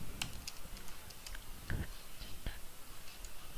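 Soft, quick clicks of a computer keyboard as a pip install command is typed, irregular tapping over a faint steady background hum, close but quiet.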